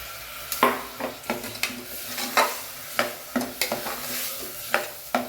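Rice is stirred in ghee and oil in a pan, with rhythmic spoon scrapes and clinks against the metal every half second over a low, steady sizzle, close and unaccompanied by talk.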